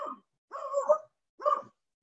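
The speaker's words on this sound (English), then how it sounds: "So, whoops, that's my dog." A pet dog barking indoors, three separate barks spaced apart, fairly close and moderately loud against silence.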